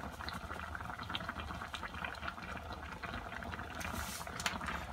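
Water rolls at a steady boil in a cooking pot, a dense close bubbling and popping that holds constant throughout with no voices over it.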